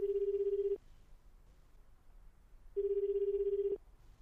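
A telephone rings during a call in the video game 428 Shibuya Scramble, sounding two steady electronic rings, each under a second long and separated by a pause of about two seconds, clear and close with no talking.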